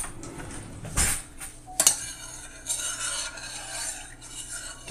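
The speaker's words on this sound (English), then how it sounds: "Get something to stir this around with." A utensil stirring honey into a drink in a bowl, scraping and clinking against the sides in a few sharp knocks, then a steady, close rubbing swirl.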